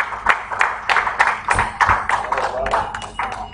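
Scattered, uneven applause from a church audience after a presentation: a dozen or so distinct claps over a few seconds, close and moderately loud, with voices murmuring underneath.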